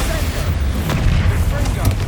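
A Bombarda explosion spell in Hogwarts Legacy, a heavy low boom that rumbles through the whole moment, loud and close, amid the sounds of combat.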